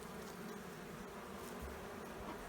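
Honey bees buzz steadily in an opened backyard hive whose frames are full of brood, a close, continuous drone with no one speaking.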